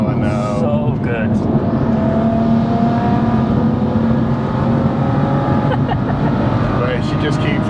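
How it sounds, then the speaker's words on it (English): A big single-turbo, 650 bhp BMW M2 drones loudly and continuously from inside the car, with a steady engine hum throughout and people talking over it. "That turbo sounds unbelievable."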